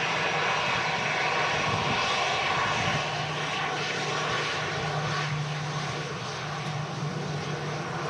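Airliner slowing after landing and making a sharp right-hand turn at Manchester Airport in strong crosswinds, a steady broad engine roar with a faint low hum, continuous and moderately near.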